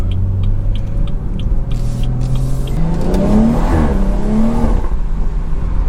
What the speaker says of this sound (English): The pops are sounding a little bit better right now.